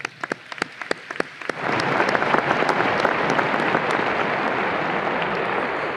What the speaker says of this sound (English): Pa'ipa'i lima, a round of applause.